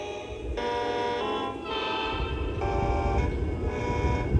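Several Lionel model train horn tones sound one after another in short bursts, layered over a steady mechanical rumble and hum throughout.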